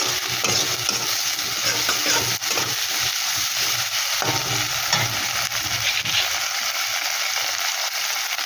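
Ginger paste and green chilli paste fry in a pan with a loud, continuous sizzle, stirred steadily with scraping and clattering throughout.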